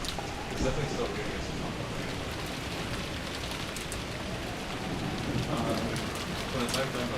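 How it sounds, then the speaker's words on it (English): Steady rain falls and patters on surfaces, a dense continuous hiss at an even level throughout, with faint voices now and then underneath. "It's definitely still raining."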